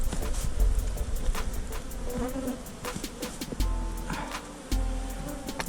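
Honeybee swarm buzzing steadily and close while honeycomb is cut from a catch box to hang in a hive, a dense droning hum with soft scraping and handling noises mixed in.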